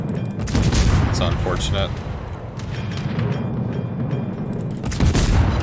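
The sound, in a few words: warship guns firing in a naval battle video game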